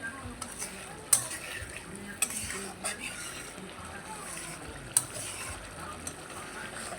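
Egg curry (dim bhuna) is stirred in a pot with a low background sizzle, punctuated by a few distinct clinks and scrapes of a spoon against the metal, spread irregularly and fairly faint.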